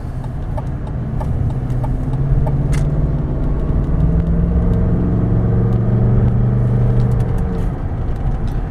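A 2001 Cadillac Deville climbs a hill and rolls over speed bumps with a low, steady engine rumble, joined by faint rhythmic knocks and thumps from the bumps.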